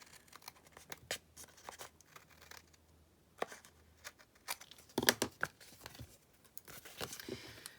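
Scissors snip excess cardstock from a stamped Christmas card, with scattered crisp cuts and paper rustles over quiet background, a louder crinkling burst near the middle.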